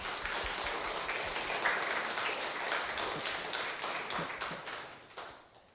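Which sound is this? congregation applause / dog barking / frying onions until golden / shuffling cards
congregation applause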